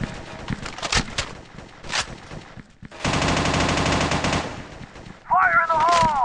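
Gunfire in a first-person shooter video game: scattered single shots, then a dense, loud burst of rapid automatic fire, followed by more shots mixed with whistling game effects.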